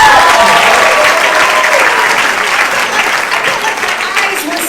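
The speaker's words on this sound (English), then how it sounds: "Let's give him another round of applause." A seniors' talent show audience applauds loudly and steadily after an act by a 65-year-old performer, a dense sustained ovation filling the room and slowly easing.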